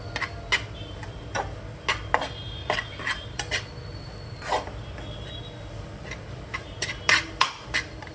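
Peanut and coconut chutney being stirred in a pan over a low flame, a spoon scraping and tapping the pan in irregular bursts, close and moderately quiet, with no talking.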